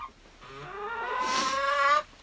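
A village farm chicken gives a single drawn-out, rising squawk lasting about two seconds, close and fairly loud against a quiet background.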